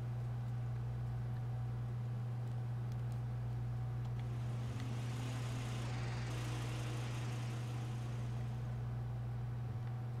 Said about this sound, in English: Whereas those cars that pass us, good gosh, they're so loud.